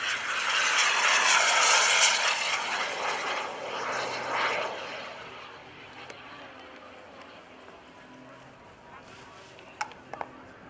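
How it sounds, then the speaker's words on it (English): A radio-controlled model jet aircraft, running on kerosene jet fuel, screams loudly as it passes at an airshow, then fades to a distant whine, with faint crowd sounds in the background. "These newer jets are starting under jet fuel or kerosene in the aircraft."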